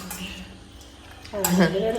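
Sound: idli steamer pot being handled

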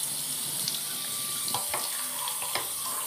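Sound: shower water running while bathing a long-haired dog

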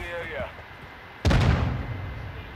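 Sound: gunfire in Call of Duty Modern Warfare 2 video game

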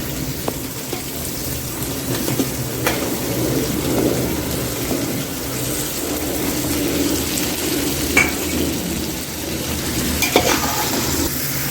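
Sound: chicken frying and stirred with masala paste

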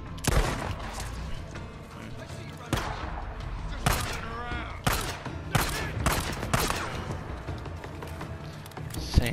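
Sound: gunfire in video game Days Gone

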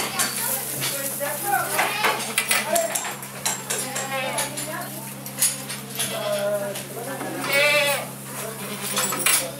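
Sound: goats bleating

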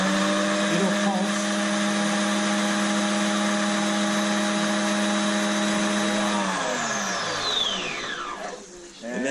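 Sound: mini food processor blending

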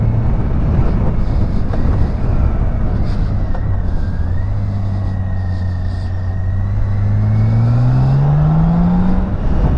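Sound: BMW K1600B motorcycle cruising in sixth gear

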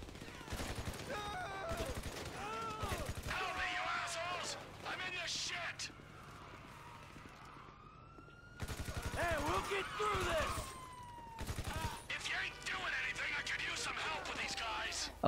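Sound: gunfire shooting attackers in GTA V video game

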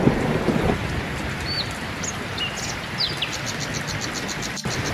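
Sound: storm wind sound effect in a cartoon

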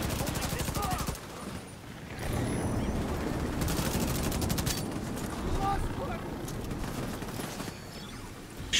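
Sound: gunfire shot into fog in video game The Division 2

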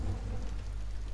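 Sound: rain outside in the video game Among The Sleep

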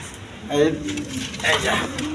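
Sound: cream bar exhibition pigeons cooing

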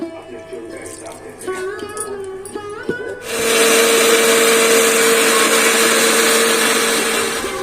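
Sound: mixer grinder grinding soaked rice into paste

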